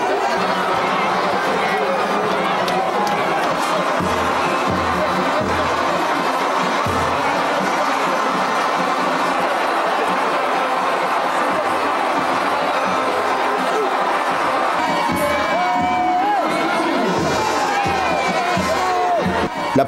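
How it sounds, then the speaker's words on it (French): A jubilant crowd fills a stadium in Niamey, Niger, at a celebration marking one year of CNSP rule as General Abdourahmane Tiani enters: a steady roar of cheering and babble, with whistles rising near the end. "C'est une foule en liesse"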